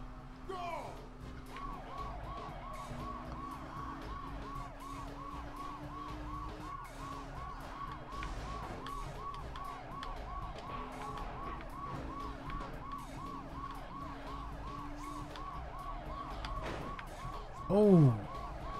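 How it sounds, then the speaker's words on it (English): A car siren wails in a rapid, repeating electronic cycle throughout an arcade racing video game run on Teknoparrot, steady and moderately loud over engine hum, with a sharp sweeping tone near the end. "Let me turn off the siren"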